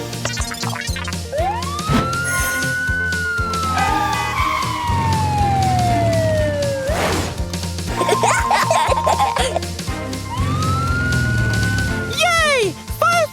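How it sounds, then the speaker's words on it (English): Cartoon fire engine siren wailing in long rising and falling sweeps, loud and close, set among a bright children's song backing with cheerful effects. "Fireman Pear can use his siren."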